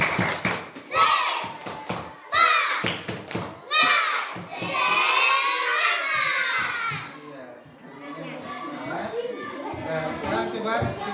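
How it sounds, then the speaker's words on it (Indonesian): Schoolchildren in a classroom perform a rhythmic 'tepuk semangat' clap routine, chanting loudly in unison while claps and taps mark the beat. Children's voices dominate, and a softer, looser stretch of chatter and clapping follows. "Ya, tepuk semangat."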